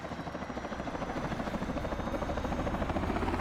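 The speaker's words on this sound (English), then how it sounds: "we've got multiple helicopters leaving, including some little birds" Several AH-6 Little Bird attack helicopters depart in a military video game, a steady rhythmic rotor chop with a droning whine, fairly close and unbroken, with no voices.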